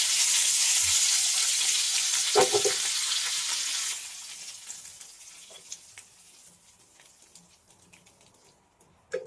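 Hot oil tempering with crushed chili poured into a curry, starting with a loud, hissing sizzle that fades after a few seconds into scattered small pops and clinks, close by with no talking.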